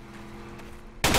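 A burst of video game gunfire from Project Reality hits loud and sudden near the end, after a low steady rumble of background noise.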